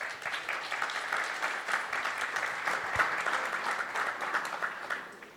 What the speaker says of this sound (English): Please give him a welcome applause.